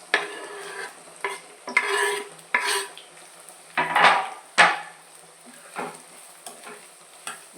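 Onions and green chillies frying with dried prawns, stirred with a spoon in a pan: sharp repeated scraping strokes at an irregular rhythm over a soft, low sizzle, close and fairly loud, with no talk.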